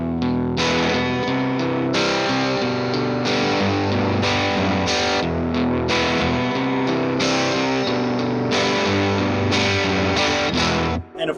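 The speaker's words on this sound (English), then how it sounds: "You can also get these warm tones with a bit of chime on the fourth position." Strummed chords ring out from an $80 pawn shop electric guitar set to the fourth pickup position, warm with a touch of chime, playing steady and loud with no voices until a sudden stop at the end.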